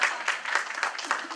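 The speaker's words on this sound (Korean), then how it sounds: "우리 박수 안 쳐주세요" Audience applause at a Korean community cultural gathering, a short, steady burst of clapping from a modest crowd, fairly soft and even throughout.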